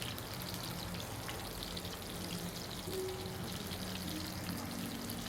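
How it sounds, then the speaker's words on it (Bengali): Sliced onion and green chilies frying in hot oil in a pan give a faint, continuous crackle and hiss, steady and low throughout with no one talking. "পেঁয়াজের সাথে একসাথে আমি কাঁচামরিচও দিয়ে দিছি।"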